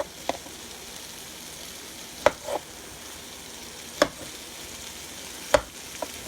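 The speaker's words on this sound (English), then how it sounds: "just let them cook in here in the pan" Potatoes fry softly in butter in a hot pan, a steady low crackle broken by a few sharp clacks of a utensil against the pan.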